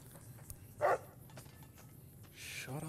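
A dog barks in the Fallout New Vegas video game, a single short bark standing out against quiet game ambience, followed later by fainter scattered sounds.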